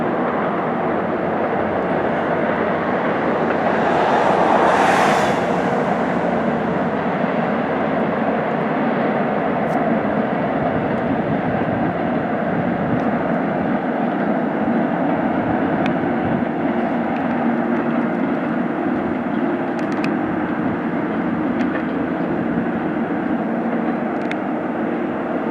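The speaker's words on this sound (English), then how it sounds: "Right-of-way maintenance train." A right-of-way maintenance train rolls past with a loud, steady, broadband rumble that swells briefly early on and then holds for nearly half a minute without talk.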